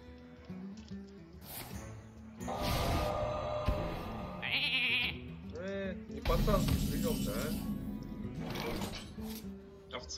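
A sheep bleat from a polymorph spell in the card game Hearthstone, a short wavering cry over game effects, with someone talking over it.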